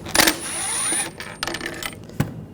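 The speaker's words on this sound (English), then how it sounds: "using a T25 socket, take those screws out" A T25 socket backs screws out of a 2004-2009 Audi A4 Quattro rear door panel, with metallic clicks, a short whirring ratchet spin and light taps, close and clear with no talk.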